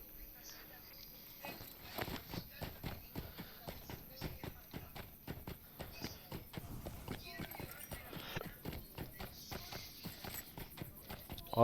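Hooves of a goat mount in the game Lord of the Rings Online clop steadily in a quick, even walking rhythm, close and moderately loud, continuing for several seconds.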